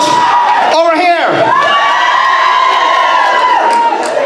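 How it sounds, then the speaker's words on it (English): One section of a school variety-show audience cheers, a loud burst of whoops and children's shouts that carries on as a dense crowd roar, with a presenter's voice cutting in briefly. "let's hear a big cheer for this section here"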